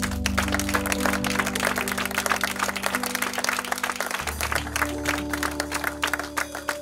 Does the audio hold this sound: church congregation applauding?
yes